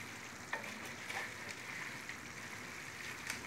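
Noodles (erişte) frying in oil as they are stirred, giving a steady broadband sizzle with a few soft scraping knocks from the stirring, faint and even, no voices.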